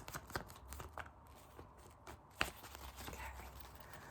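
A deck of tarot cards is shuffled during a card reading, giving soft, close flutters and light slaps, with one sharper snap midway and a low background murmur.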